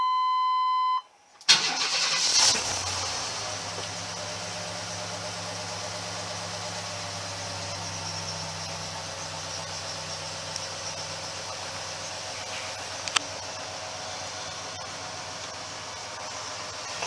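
A 1995 Chevy Astro van cold starting at 22 degrees: a brief warning chime, a quick crank, then the engine catches and settles into a steady idle that continues close and even, with a couple of small clicks.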